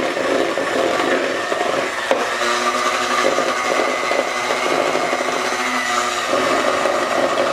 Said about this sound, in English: So now I'll mix my confectionery sugar and butter until it's well combined.